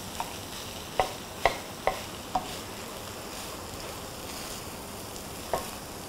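Rice tossed in a hot pan with shrimp and squid for pineapple fried rice, giving a constant soft sizzle broken by several sharp scrape-and-clack hits of a utensil against the pan, close by, with no talking.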